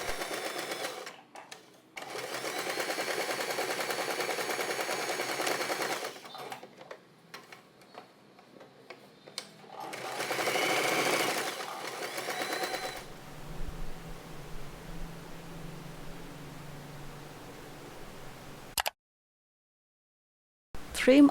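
A sewing machine runs in several bursts, stitching over folded, bulky fabric layers for a dual-zip pouch, with a steady rapid whir, pauses between runs and a quieter stretch near the end.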